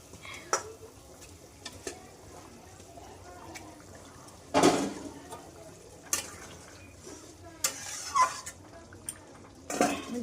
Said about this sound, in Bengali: এবার আমি মাছগুলো একে একে দিয়ে দেব।